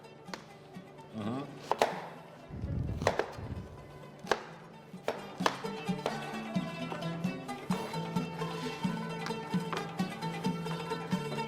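A kitchen knife chops vegetables into large pieces for a cooking segment, a series of sharp taps against a board spread across the clip, with clatter and background kitchen noise.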